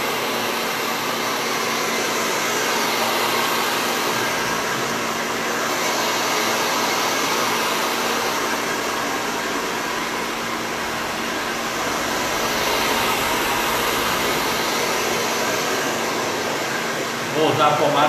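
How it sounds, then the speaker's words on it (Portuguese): A hair dryer blows steadily while drying a man's hair in a salon, a loud continuous whooshing drone that swells and eases slightly as it moves, running for the whole stretch with a brief clatter at the end. "Não vai ser bem uma escova não, Timóteo. Só secar."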